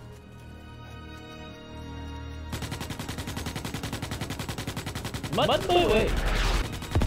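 Heavy artillery and machine-gun fire in the Starship Troopers: Extermination game, a rapid rhythmic volley that kicks in after a quieter hum and swells louder, with shouted voices over it.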